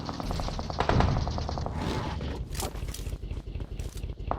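Rapid bursts of automatic gunfire crackle in a mobile battle royale match, with quick rhythmic volleys up close followed by scattered sharper shots and faint scraping movement.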